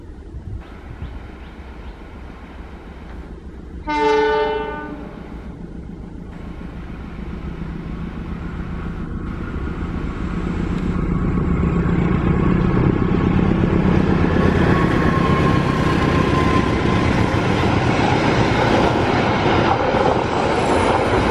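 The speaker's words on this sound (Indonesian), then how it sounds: "Silahkan simak kereta api Argo Wilis persiapan melintas langsung." A train horn sounds briefly, then the Argo Wilis diesel locomotive train rumbles closer and roars past steadily on the straight through track at Karang Pucung station without stopping, the noise growing and holding loud to the end.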